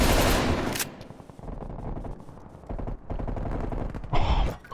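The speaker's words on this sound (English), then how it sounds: "there's two shooting at me" Gunfire in a multiplayer shooter video game, rapid automatic fire in dense bursts with short pauses, loud and close, opening with a heavy blast and ending with another.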